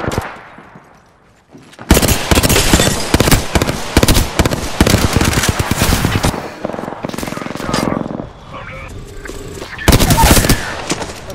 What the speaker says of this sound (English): Doc, getting shot at.